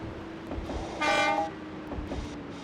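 A Nagoya Railroad 880 tram running in the DENSHA DE GO! game, a steady rolling hum with a bright tonal horn or bell blast of about half a second in the middle, no voices.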